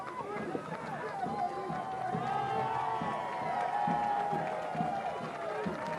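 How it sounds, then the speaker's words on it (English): Stadium crowd at a professional soccer match applauding and cheering as a substituted player leaves the field, a steady broad wash of clapping and crowd noise under a commentator's voice. "he's earned this applause that he's getting as he comes off the field"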